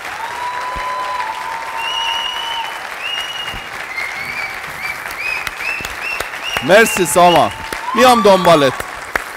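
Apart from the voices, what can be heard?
audience applause for Saman Ehteshami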